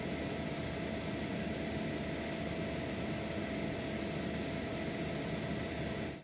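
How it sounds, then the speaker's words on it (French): Cooling fan of the MPPT charger inside an EcoFlow or Bluetti portable power station, giving a steady, even whir with a faint constant tone, running unbroken and close until it cuts off at the very end. "Le MPPT qui est à l'intérieur, bah, ça enclenche le ventilateur."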